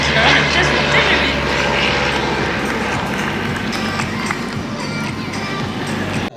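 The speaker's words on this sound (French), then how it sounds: "Les avions reviennent maintenant chacun à 180 km/h" Aeroclub propeller planes fly past at an air show, each at about 180 km/h, giving a loud sustained engine drone that dominates throughout, with a commentator talking over it.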